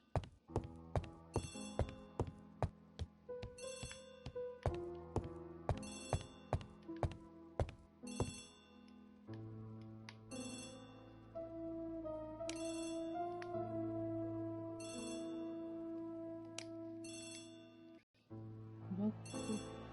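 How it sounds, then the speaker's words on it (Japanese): Telephone ringing inside the Agatha Christie ABC Murders video game: a run of bright, evenly repeated electronic tones that gives way to longer sustained chiming notes, clear and steady, with no talking over it. "電話。"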